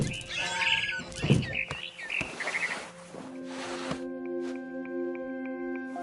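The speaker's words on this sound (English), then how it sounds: "It was a barn swallow going back to her nest." Barn swallow in the video game What Remains of Edith Finch, chirping in quick bright bursts for a few seconds before a low steady tonal drone takes over.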